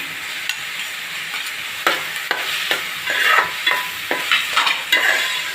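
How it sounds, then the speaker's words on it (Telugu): Raw prawns frying with half-cooked onions in a pan, a steady close sizzle broken by repeated scraping stirs that grow busier and louder toward the end. "ఇప్పుడు నేను పచ్చిరొయ్యలు వేసేస్తున్నాను"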